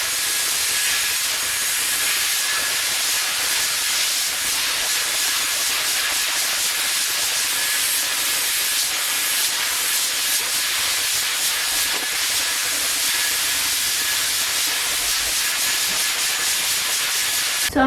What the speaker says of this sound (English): So I'm done blow drying,